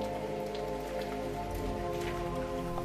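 Steady rain falling on a surface, a dense continuous patter with scattered louder drops, close and even throughout with no voices.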